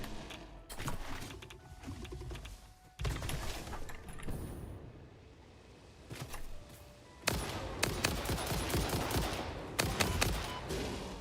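Shotgun blasts in the factory-building game Satisfactory, fired at charging hogs: bursts of loud sharp shots in quick clusters with short gaps between them.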